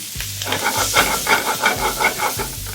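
Shrimp frying in a pan with black pepper, paprika, cayenne, chili powder and garlic granules, a loud close sizzle with rhythmic stirring scrapes repeating about every third of a second, no talk.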